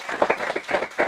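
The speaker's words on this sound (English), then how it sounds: "Give Mayor Andy Chan a warm round of applause." Audience applause at an outdoor flood-control press conference for Mayor Andy Chan, steady dense clapping from a crowd, moderately loud and continuous through the short stretch.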